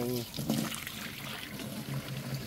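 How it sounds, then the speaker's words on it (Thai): Rainwater flows into a cattle water trough on a farm, a steady trickling pour heard under people talking nearby. "โอ้น้ำไหลดีเหมือนกันนะ"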